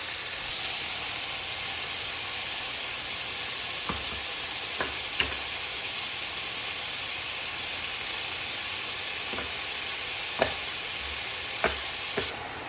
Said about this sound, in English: Look at that nice sizzle. We're getting a nice sear.